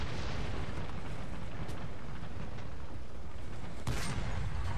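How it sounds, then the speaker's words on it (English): Artillery barrage explosions in a video game form a dense, continuous rumble of blasts, with one sharper, louder impact near the end. "I'm trying to get away from the artillery barrage."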